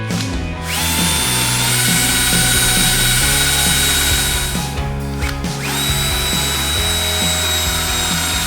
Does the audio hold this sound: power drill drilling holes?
yes